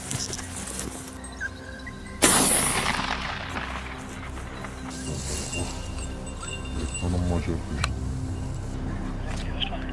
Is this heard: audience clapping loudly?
no